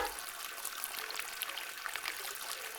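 Water runs steadily from a tap into a basin, a soft continuous splashing pour that holds even from start to finish with no voices over it.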